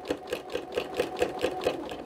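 A sewing machine fitted with a walking foot quilts a spiral, giving a soft, even run of rapid needle strokes close by, with no voices.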